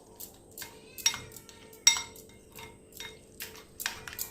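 A spoon mixes semolina snack batter with masala in a bowl, producing soft scraping strokes and a few sharp metallic clinks against the rim in a quiet, irregular rhythm.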